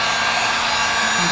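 Heat gun running on its low setting for resin work, a steady broadband blowing hiss held for just over a second with no breaks.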